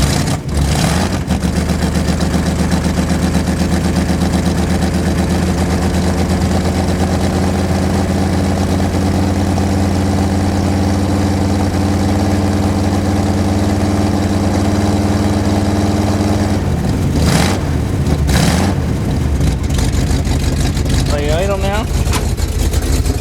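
A 1974 Dodge W100 pickup truck idles after a cold start, its engine a loud, steady, close rumble for most of the span before a few revs and knocks near the end.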